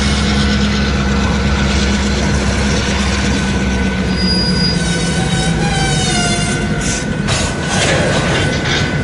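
A freight train rolls past on the BNSF and UP main line in Fremont, Nebraska, loud and close, with a constant heavy rumble, rhythmic wheel clatter and shrill wheel squeals rising near the end, no talk.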